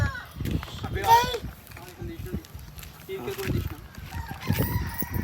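A rooster crows once amid outdoor background noise on a farm, with people talking nearby throughout.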